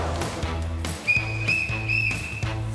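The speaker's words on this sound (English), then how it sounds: "Three whistles means he's on his way in." A lifeguard blows a whistle three times in sharp, high blasts over steady background music, each blast short and clear.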